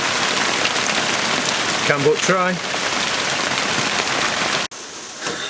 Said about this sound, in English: Thunder, lightning, heavy rain.